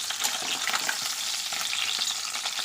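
Close, continuous hiss and spatter of fish heads frying in hot mustard oil in a kadai, with busy popping crackles throughout and no voices.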